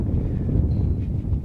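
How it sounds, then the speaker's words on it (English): Wind blowing outdoors at a shooting range, a steady low rumble of gusts buffeting the microphone throughout, loud and continuous with no other clear sounds. "It's a little bit windy out here."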